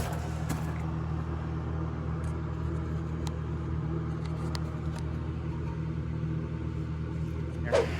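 A 1999 Chevrolet Silverado engine idles with its catalytic converters gutted to an empty shell, producing a steady, deep, continuous exhaust rumble that holds an even level throughout.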